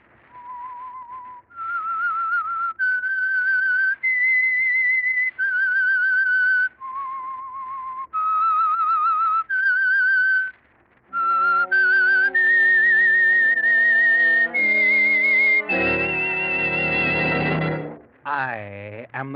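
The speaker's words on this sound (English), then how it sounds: "That whistle is your signal for the Signal Oil Program" Someone whistles the eerie theme of The Whistler radio program, a clear solo melody of sustained notes stepping up and down, ending with a fuller orchestral swell and sliding flourish.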